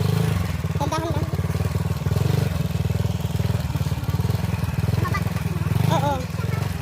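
A motorcycle engine putters steadily along a rough farm path, a close, even rapid chug throughout, with people talking briefly over it.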